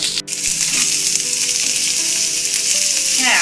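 Shrimp with taro leaf paste sizzles steadily in a pan while being stirred, a continuous loud frying hiss with occasional scrapes of a utensil and no talking.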